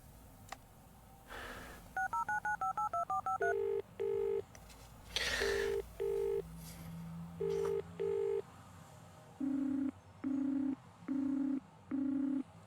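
Telephone dialing tones in the video game Resonance: a quick run of rapid keypad beeps, then pairs of longer even tones spaced in a steady rhythm, clear and alone with brief game noises between.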